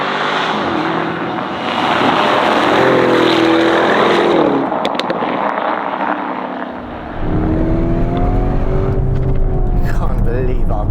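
Black Lamborghini Urus S with Novitec Esteso widebody kit accelerating hard, engine rising in pitch through gears with a brief dip for a shift, loud from inside the cabin.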